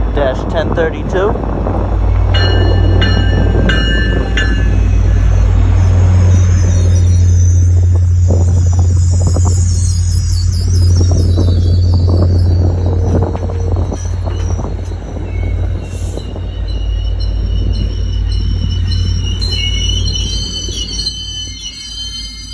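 MBTA F40PH-3C diesel locomotive pulling a commuter train into Worcester station: deep engine rumble, clanking cars and brake squeals close by, loud and sustained for over twenty seconds as the train slows.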